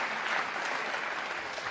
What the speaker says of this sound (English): He's getting a much larger applause for this than anything else.